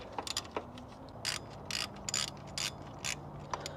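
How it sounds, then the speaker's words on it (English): A ratchet wrench turned on bolts of an NA Miata: quick bursts of rapid clicking, about eight short strokes with pauses between, close and crisp against a quiet garage hum, with no talking. "I need a more sensitive ratchet"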